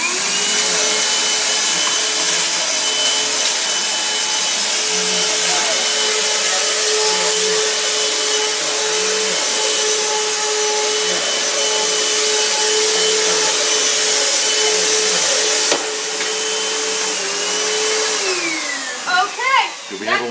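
A Kenmore vacuum cleaner runs steadily and loudly in a side-by-side vacuum test, a constant motor whine with a pitch shift near the end as it powers down, while faint voices murmur underneath.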